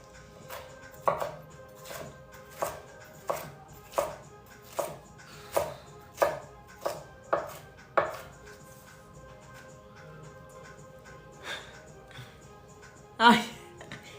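A knife chops onions on a cutting board in a steady run of about a dozen evenly spaced, crisp thuds, then a pause and a few more loud chops. A person talks over it.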